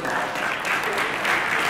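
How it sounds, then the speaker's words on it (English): An audience at a talk on immersive, experiential attraction design applauds together, a dense and steady burst of clapping from a full room that lasts throughout. "give yourselves a round of applause"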